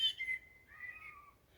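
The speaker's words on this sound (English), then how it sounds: "That's the fluty, very pleasant song of the blackbird." A blackbird sings its fluty evening song outdoors, a few clear whistled phrases that rise and waver, moderately distant and soft against a quiet background, with no talking.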